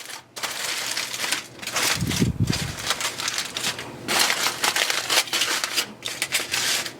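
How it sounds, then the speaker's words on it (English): Aluminium foil lifted out of a pan of pumpkin spice fudge, with loud, close crinkling and crackling in bursts throughout and a brief low thump partway through. "we're just going to take our foil, lift it out of our pan, bring the foil down to the sides"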